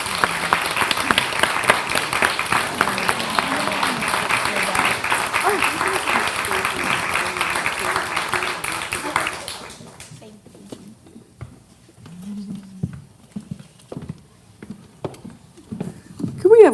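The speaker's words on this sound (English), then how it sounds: "Can we have one more round of applause for all of our award winners today?" An audience at a children's book award ceremony applauds the prize winners. The clapping is loud and sustained for about nine seconds, then cuts off sharply, leaving scattered claps, a few thumps and a nearby voice speaking.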